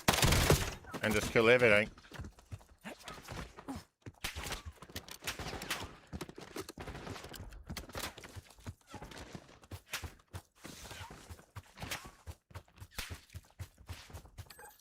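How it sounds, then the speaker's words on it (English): Mortar fire in a shooter video game near an enemy guild checkpoint, a busy run of repeated explosive blasts and crackling gunfire that rises and falls for about fifteen seconds, while someone talks over it. "And this thing here will set off its mortars"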